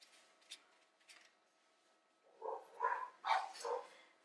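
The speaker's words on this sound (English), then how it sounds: "There's the neighbour's dog." A neighbour's dog barks at a distance, a few faint yips early on and then four moderate barks in quick succession near the end, against an otherwise quiet background.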